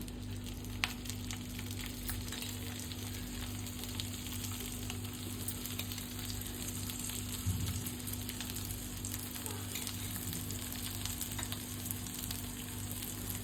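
A sabudana thalipeeth fries in oil on a tawa with a steady, even crackle close up, alongside a constant low electrical hum and a brief soft knock partway through.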